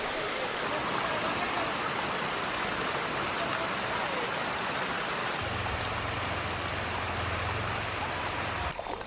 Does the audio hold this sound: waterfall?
yes